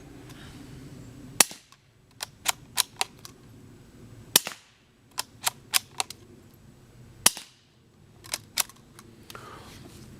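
Suppressed .22LR rifle shots through a STILL SAPL sound moderator, a series of sharp, dry cracks fired singly and in quick pairs, fairly close, with quiet gaps between and no talk.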